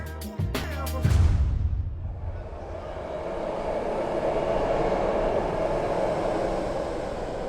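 A few sharp clacks, then a train rumbles steadily along with a broad, continuous roar that builds slightly and keeps going.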